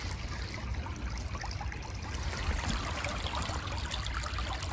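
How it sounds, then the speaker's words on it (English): A stream flows steadily through a valley at night, a continuous trickling wash of water that stays even and close throughout with no voices. "All I can hear is the stream."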